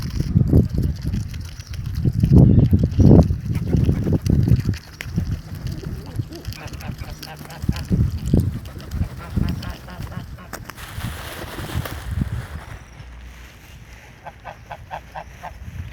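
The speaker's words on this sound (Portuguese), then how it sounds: "os gansos aqui, eles comem na mão." Geese being fed by hand give scattered honks and calls nearby, mixed with people talking and wind.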